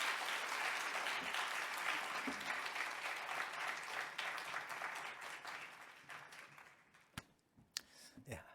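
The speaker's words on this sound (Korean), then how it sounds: "앞으로 교단을 위해서도 귀하게 또 쓰임 받을 수 있도록 헌신해 달라고 우리 목사님을 박수로 모시겠습니다." A church congregation at a scholarship dedication service at Daeyeon Holiness Church in Busan applauds to welcome the guest pastor, a sustained, fairly distant wash of clapping that fades out into a few sharp taps and knocks.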